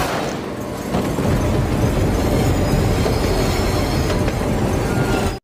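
A train rolls loudly along the tracks, a dense steady rumble and rattle of wheels on rails, close by and continuous.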